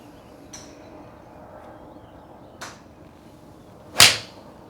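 Golf ball struck with a Callaway Rogue Pro iron outdoors, heard as one sharp, loud crack near the end, preceded by two fainter clicks over a low background hum.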